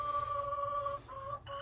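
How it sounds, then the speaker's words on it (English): A broody Buff Orpington or Australorp hen clucks close by in a short run of grumpy calls from the nest over a low background hum. "Crazy chickens."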